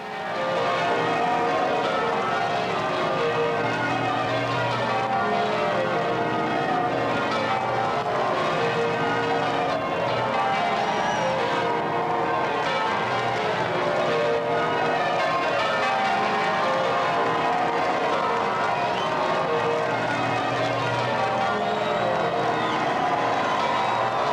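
Church bells peal over a large, cheering crowd at the royal wedding of Charles and Diana, a dense, continuous wash of ringing and roaring voices that fills the whole stretch without pause.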